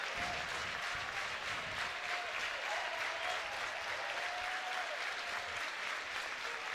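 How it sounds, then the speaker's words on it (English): Steady crowd applause and cheering fill the stands at an LSU vs Ole Miss college baseball game, a continuous dense roar of clapping with some whistling, loud and sustained throughout with no talk over it. "You see the crowd now really into it."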